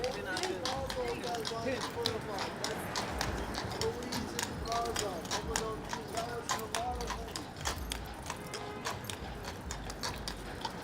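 Horse-drawn carriage hooves clip-clop on a New York City street on Christmas night, steady trotting beats amid busy city ambience and nearby talking.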